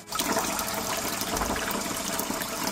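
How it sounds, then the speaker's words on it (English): Lukewarm water runs steadily from a kitchen tap for making refrigerator dough, a constant rushing gush that fills the whole moment at moderate volume with no talking. "You need 3 cups of lukewarm water right out of the tap."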